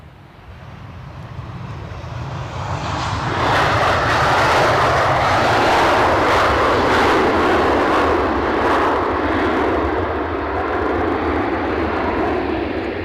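A Ryanair airliner at windy Edinburgh Airport, a loud, close engine roar that swells over the first few seconds and holds a broad, rushing drone to the end, with no talking.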